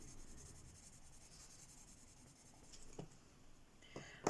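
Colored pencil from a Felissimo set scratching lightly across paper while coloring, a faint continuous dry rasp with a few soft taps near the end.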